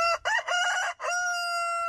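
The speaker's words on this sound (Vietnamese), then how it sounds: "Nghe quanh núi vọng tới tiếng gà rừng Thi nhau ỏ ó o Cất tiếng gáy vàng" A jungle fowl rooster crows nearby, loud and clear, its call broken into several choppy notes before settling into one long, steady held tone.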